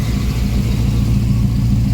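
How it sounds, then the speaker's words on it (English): A Volvo 240 engine runs at high idle around 1,500 to 2,000 rpm on a cold start with the manual choke on, a steady, loud, low rumbling drone with no talking. "So this right now is cold start, and the high idle's on with the manual choke at about"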